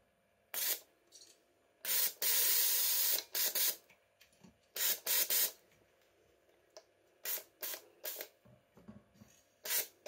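A BMW E46 fuel injector spraying fuel during a cleaning test, with sharp hissing bursts of varied length and short spurts repeating through the clip, close and loud.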